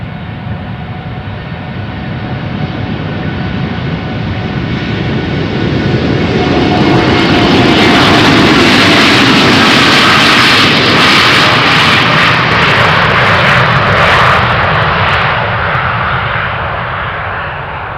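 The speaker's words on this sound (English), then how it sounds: "The Saudia Dreamliner" A Saudia Boeing 787 Dreamliner takes off from runway 36L at Amsterdam Schiphol, its jet roar swelling to a loud, broad rumble and hiss near the middle, then slowly easing as it climbs away.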